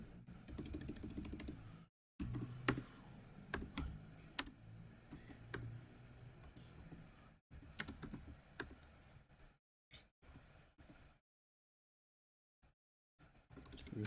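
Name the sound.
typing router commands on a computer keyboard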